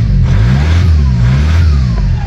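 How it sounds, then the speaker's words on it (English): A VW Passat B3 (35i) fitted with a PD150 engine conversion fires up and revs, a loud close engine note climbing and sweeping in pitch, with no voices. "Engine starts."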